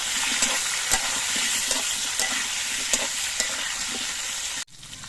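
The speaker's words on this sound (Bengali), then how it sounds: "এবার আলুগুলো আমি কিছুক্ষণ ভেজে নেব" Potatoes fry in a pan with a steady close sizzle, punctuated by regular spatula stirs and scrapes, ending with a brief pause before the sizzle resumes; no talking.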